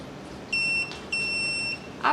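A GSM smart alarm panel, model G1, gives two clear electronic beeps, one short and one longer, separated by a brief pause over quiet room hiss.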